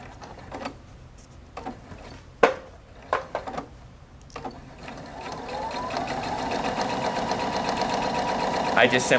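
A Husqvarna Viking Opal 690Q sewing machine starts up under foot-pedal control and runs in a steady, rising whir of fast stitching. Sharp clicks and taps come before it, and a voice speaks over it.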